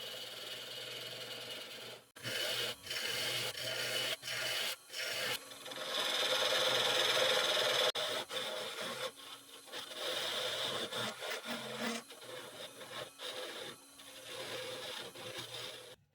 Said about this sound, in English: Wood does have a high moisture content, but the shavings are coming off quite easy